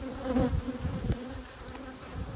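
Honey bees buzz close by during a hive inspection, a continuous droning hum with small rises and dips in pitch.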